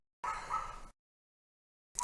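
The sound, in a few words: dog barking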